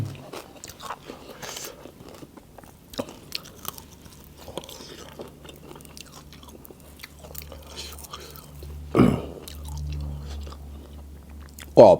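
Crispy pork is chewed and bitten near the mic, with sparse crunchy bites and mouth sounds over a quiet background and a few louder bumps toward the end.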